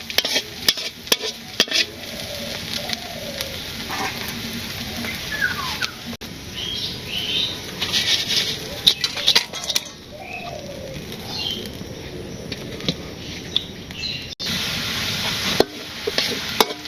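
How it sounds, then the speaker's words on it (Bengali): Onions sizzle in hot oil in a pan, scraped and stirred over and over with a spatula, the clatter coming in bursts over a steady frying hiss, close and loud. "পেঁয়াজ ভাজি হয়ে গেছে"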